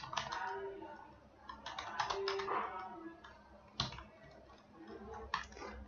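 HTML code being typed on a computer keyboard, quick irregular clusters of close key clicks with brief pauses between bursts, fairly quiet.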